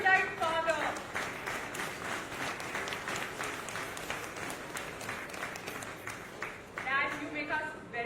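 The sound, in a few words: audience applause at a book event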